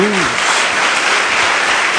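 A church congregation applauds in a steady, dense wash of clapping that fills the space from start to finish, with a brief sung or spoken vocal tone at the very beginning.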